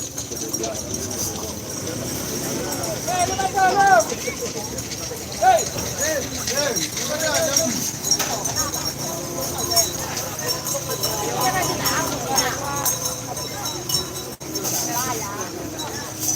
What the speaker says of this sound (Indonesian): Ini ada sapi yang mulai dilepas guys.